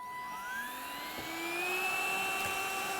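A cordless vacuum cleaner runs steadily at a sewing table with a rising, whining motor tone and shifting pitch as it sucks up debris, fairly faint and with no talking.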